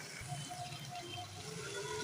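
Water is poured steadily into a cooking pot holding tomatoes and moraiyo (barnyard millet) for khichdi, a continuous close gushing fill lasting about two seconds with no talk.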